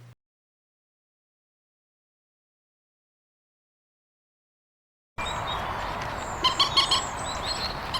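A moorhen calls in a short burst of clucking, croaky notes after a long stretch of silence. The call is fairly close and heard on its own.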